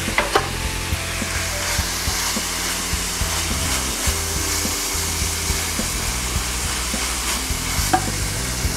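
Onions and garlic frying with minced meat in a pan for enchilada filling, a steady dense sizzle at moderate heat with occasional scraping stirs and clinks, continuous and close throughout.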